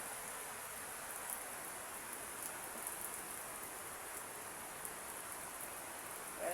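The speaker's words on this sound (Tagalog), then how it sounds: "Lumalakas lalo ang ulan." Steady rain pours down in Baguio City, a dense, even hiss that fills the whole stretch with no other sounds rising above it.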